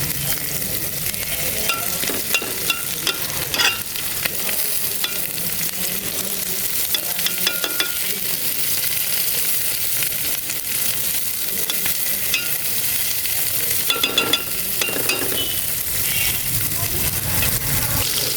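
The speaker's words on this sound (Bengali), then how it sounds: "মাগুর মাছ আমি ভুনা করতে আছি" Magur catfish stir-fried in a pan makes a loud, steady sizzle for the whole stretch, with frequent scraping and clattering as the pieces are turned.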